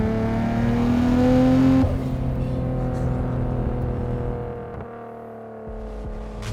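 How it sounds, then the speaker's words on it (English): A 440 WHP Nissan Skyline R33 GTR accelerates hard in first gear, its engine note climbing steadily and loud from inside the car, then dropping off as the throttle lifts and settling into a lower drone. "So first gear is actually pretty long in this car, and it's powerful."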